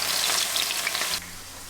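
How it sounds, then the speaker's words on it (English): Water-soaked potatoes hit hot oil and sizzle loudly with dense crackling for about a second, then the frying settles into a quieter, steady hiss. "Look at that sizzle."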